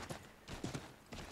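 A horse's hooves clip-clop in Assassin's Creed 3, with several quick, close hoof strikes in uneven pairs and short pauses between them.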